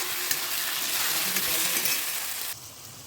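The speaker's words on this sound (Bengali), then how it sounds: "ভালো করে এটাকে নাড়াচাড়া করে নেব" A spoon stirs a thick Bengali curry of fish head and bottle gourd with sugar and coriander leaves, a loud close sizzle and scraping that quiets suddenly near the end.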